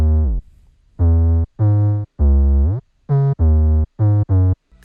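Deep 808 bass notes in a Moombahton remix built in FL Studio, played alone as a loud series of about eight sustained hits with short gaps, some notes longer and some clipped short in a bouncing rhythm.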